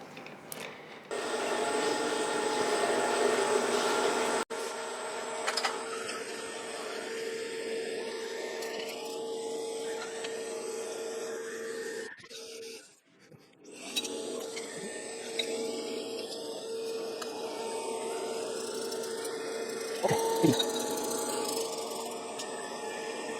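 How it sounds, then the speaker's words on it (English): A 4-flute end mill cutting an 8 millimeter opening for a lathe tool height gauge, a steady machining whine with a grinding rasp that holds for twenty seconds, briefly dropping away midway, alone. "Now I will use a 4-flute end mill to open at 8 millimeter."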